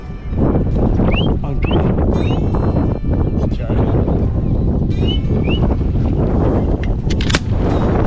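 A shotgun fires during waterfowl hunting on a bay, sharp reports against steady wind noise on the microphone, with birds calling faintly.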